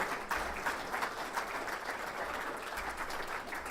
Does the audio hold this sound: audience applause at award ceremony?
yes